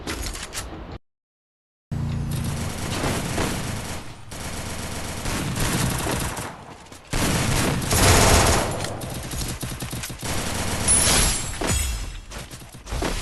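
Gunfire in a battle royale video game plays as bursts of rapid automatic fire, punctuated by sharp single shots. The fire breaks off for a moment of silence near the start, then returns with loud, dense volleys and clattering impacts.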